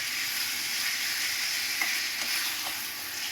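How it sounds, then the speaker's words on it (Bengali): Chicken sautéing with fried onions in a pan for chicken mughlai: a loud, even, continuous sizzle close up, with a few faint stirring scrapes and no voices. "এটা এবার ভালো করে কষিয়ে নিতে হবে।"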